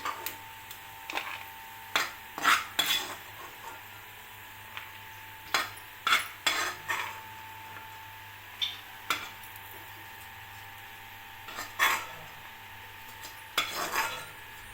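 Thin vermicelli fries in ghee while a spoon stirs it in the pan, giving sharp intermittent metal clinks and scrapes over a faint, steady sizzle.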